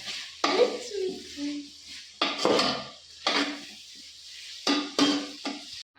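Noodles are stirred and mixed in a metal pot, with repeated bursts of scraping and clanking utensil against pot in uneven strokes, close and fairly loud, a light sizzle between.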